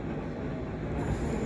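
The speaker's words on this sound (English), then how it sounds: "here comes my train" A Southern train rumbles into a station close by, a low rolling roar with faint wheel noise building slightly as it pulls in.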